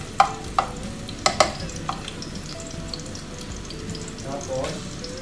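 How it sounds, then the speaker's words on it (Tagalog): Garlic sautéed in a pan with a soft, steady sizzle, broken early by several sharp metallic clinks and scrapes of a stirring utensil, then a quieter stretch of gentle frying. "gisa-gisahin lang natin yung bawang"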